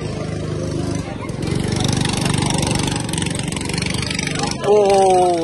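Engine drone of a go-kart in a racing video game at a Red Button Go Karting location, a loud steady buzzing motor that rises into a revving pitch sweep near the end, with speech over it.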